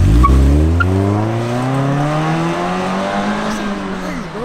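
Mazda Miata sports car engine driving past or accelerating, a loud close rasp whose pitch climbs steadily through the revs with a brief tire-squeal edge at the start, no talking over it.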